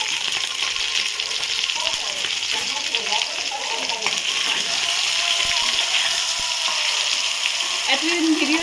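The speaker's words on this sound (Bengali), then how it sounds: "তেলের ওপরে জিরে আর শুকনো লঙ্কা ফোড়ন দিয়ে সিদ্ধ করা আলুটা দিয়ে দিল" Boiled potatoes hit hot oil tempered with cumin seeds and dried chili for a Bengali potato curry, giving a steady, dense sizzle and crackle close by, with faint stirring scrapes underneath.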